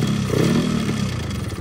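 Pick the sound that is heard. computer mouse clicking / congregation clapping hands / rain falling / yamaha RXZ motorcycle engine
yamaha RXZ motorcycle engine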